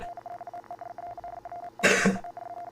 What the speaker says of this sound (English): I didn't mean to cough in your ears.